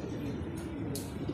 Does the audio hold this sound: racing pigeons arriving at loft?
yes